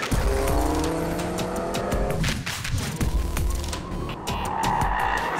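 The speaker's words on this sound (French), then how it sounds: "C'est parti pour l'essai officiel du Ford Focus RS" A Ford Focus RS accelerates hard on a track, its engine roaring loud and close with rising revs, gear changes and some tire squeal.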